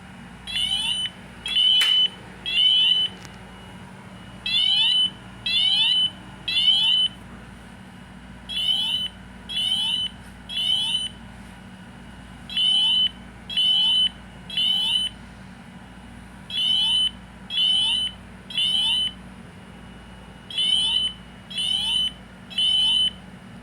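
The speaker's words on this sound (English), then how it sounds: "So let's activate the i3 smoke detector and see what happens." A Honeywell i3 smoke detector sounding on a Honeywell Solid State System 7000 fire alarm panel during a test. Loud, steady beeps repeat in groups of three with short pauses between, continuing throughout.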